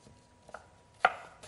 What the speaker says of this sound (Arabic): اول شيء حنبلش كمان تقطيع البصل